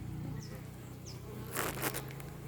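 Steady, close buzzing of many honey bees humming continuously in a hive in Congo, with a low drone throughout and brief rustling noises near the middle.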